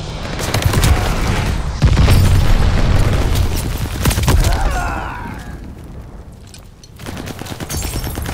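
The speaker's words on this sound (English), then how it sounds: "Heads up, enemy glide bomb coming in hot." A glide bomb explodes in the video game Call of Duty Vanguard amid loud, continuous gunfire and repeated booming blasts, with dense rattling bursts throughout and no speech.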